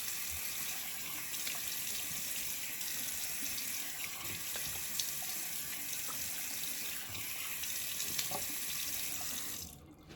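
Running water pours steadily from a tap as someone rinses off after shaving, a close, continuous splashing hiss that cuts off abruptly near the end.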